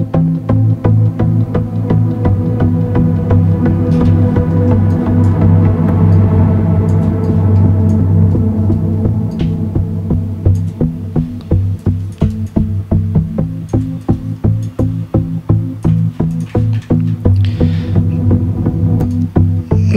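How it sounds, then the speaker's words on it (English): A sustained synth chord pulses with a steady, rapid tremolo wobble, loud and alone, the throbbing growing choppier over time. "Sounds like tremolo, but pretty nice sound."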